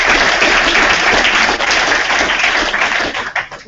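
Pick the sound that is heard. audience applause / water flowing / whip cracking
audience applause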